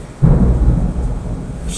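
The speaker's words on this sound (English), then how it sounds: "I hate thunderstorms." A deep rumble of thunder rolls in during a thunderstorm with hail and rain, loud and close, sustained for a moment over a steady hiss of rainfall.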